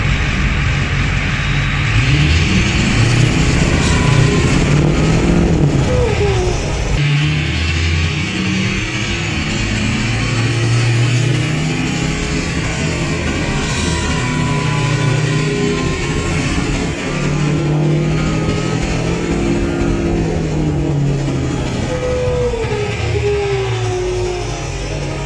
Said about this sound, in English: Just a little one-wheel burnout right now while I've got that camera in the background.